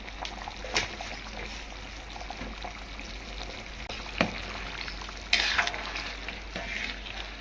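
Country chicken curry in a pan being stirred as chili powder goes in, with a steady low sizzle of frying oil and a few scraping stirs and clinks close by; no one speaks.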